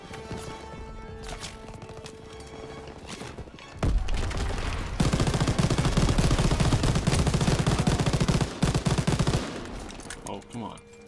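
Machine gun fire from the World War II shooter Call of Duty WW2, campaign mission one: dense, loud, continuous automatic bursts that swell midway and keep hammering for several seconds before thinning out.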